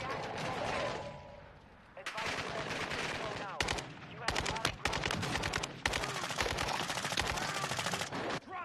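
Rapid automatic gunfire in a multiplayer shooter video game, loud bursts of repeated shots in several long volleys, close and harsh, with a player talking over the action.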